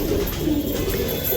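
Domestic pigeons cooing in low, soft repeated murmurs close by, with a steady hum of several birds and no talk.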